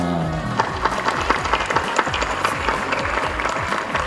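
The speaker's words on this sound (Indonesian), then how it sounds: "Tepuk tangan." A crowd at a scout jamboree flashmob in Indonesia claps hands steadily, many sharp overlapping claps forming a loud, continuous round of applause.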